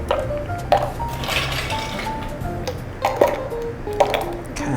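Ice cubes drop and rattle into a metal shaker for a lavender sour cocktail made with egg white, giving several sharp clinks and knocks over a low background hum.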